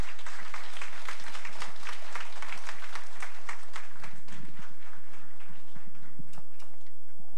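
An audience applauds to welcome a speaker to the front at a church youth service, a dense patter of many hands clapping steadily at moderate distance before easing off.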